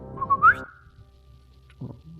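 A short rising whistle, as if whistled by a person imitating a signal, followed by silence and a faint low sound near the end.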